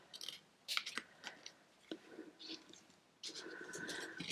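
Scissors snip through paper to cut petals for a paper rose, a series of close, crisp cuts in uneven rhythm ending with a longer run of quick snips.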